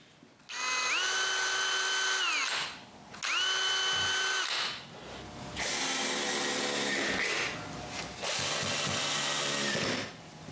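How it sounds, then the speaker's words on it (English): A power drill whines in four long bursts, revving up and down as it bores a hole into a wooden knob, with short pauses between runs and no talking. "So I drill a hole in the center of the knob and add a screw."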